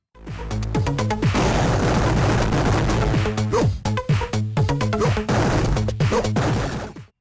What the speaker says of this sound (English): The sound of the shotgun is deafening, and the enemies react with good enough death animations.